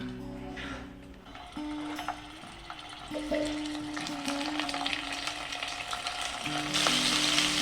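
Hilsa fish heads fry in hot oil in a home Bengali kitchen, a close, steady sizzle with stirring clinks that swells louder toward the end as the oil crackles harder, no talk.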